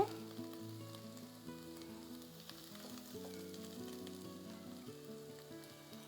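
Onions sizzle steadily as they fry in oil for biryani, a continuous bubbling crackle beneath prominent background music with no talking.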